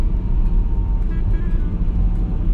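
Steady road traffic rumble from a car driving through the town streets of Los Alcázares, Spain, with a continuous low engine and tyre drone and passing vehicles close by, no voices.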